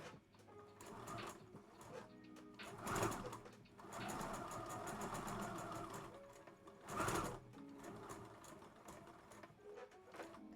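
A sewing machine back stitches fabric for a child's dress, running in a steady mechanical whir close by, with louder bursts of stitching around two points and no talking.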